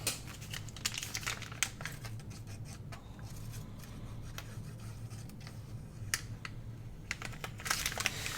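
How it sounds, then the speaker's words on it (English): Amazon packaging paper crinkles and crackles as it is handled for a handmade autumn journal, a close, steady run of dry rustling with sharper snaps scattered throughout. "it's going to have that nice crinkle"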